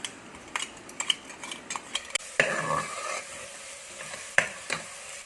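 Crushed onion spice mix frying in oil for a beef dish, soft sizzling broken by repeated sharp clinks of a metal spoon against the pan as it is stirred, close and fairly quiet.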